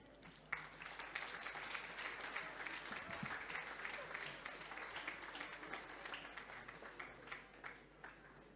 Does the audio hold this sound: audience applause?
yes